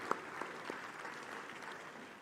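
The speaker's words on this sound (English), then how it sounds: "a round of applause for the official party" Applause from a conference audience at the 30th Afreximbank Annual Meetings in 2023, steady clapping heard from a distance, faint and fading slowly after a few sharper claps at the start.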